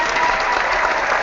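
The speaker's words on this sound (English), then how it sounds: "we're going to bring them in and clap for them" Loud, dense applause from a crowd welcoming new members: a short, continuous burst of many hands clapping at close range, without pauses.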